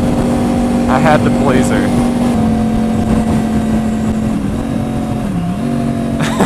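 Motorcycle fitted with a Toce exhaust runs at a steady, loud idle with a deep continuous drone and a brief dip in pitch near the end, while someone talks over it.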